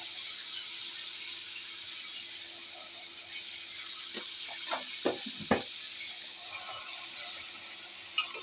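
A spice paste of ground ginger, garlic and salt for a fish curry sautés in the pan with a steady, hissing sizzle, broken by a few louder spits and pops midway; no voices are heard.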